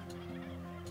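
A large flock of close to 5,000 turkeys, including bronze, black, Narragansett and bourbon red birds, gobbles together on a turkey farm. The dense, layered gobbling is loud and continuous, with sharper calls standing out.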